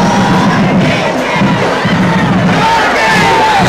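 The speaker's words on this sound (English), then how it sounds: "Wayne County faithful cheering their defense on." Football playoff crowd in the stands roaring continuously as fans cheer on the home defense, a loud, dense wall of shouting and cheering close around the listener throughout.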